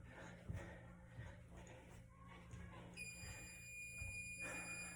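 A faint high electronic workout timer beep starts partway through and holds steadily to the end, over quiet background noise and soft movement.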